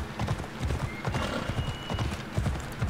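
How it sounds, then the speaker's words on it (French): A horse's hooves clip-clop steadily in Assassin's Creed Odyssey as the animal comes up out of the water, a rhythmic trot with a soft background wash. "Le cheval est sorti de l'eau."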